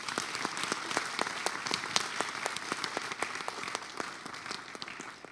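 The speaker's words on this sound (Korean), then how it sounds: "여러분 다시 한번 유승민 후보께 박수 한번 보내주십시오." Forum audience applauding presidential candidate Yoo Seung-min, a burst of many hands clapping in a dense, even patter, moderately distant and fading slightly toward the end, with no talk over it.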